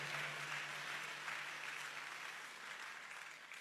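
A church congregation applauds with dense, steady clapping that holds throughout, slightly distant, over a faint low hum.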